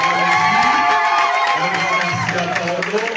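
Congregation applauding and cheering at an adult baptism mass in a parish church, a dense burst of clapping mixed with shouts and children's voices, with speech over it.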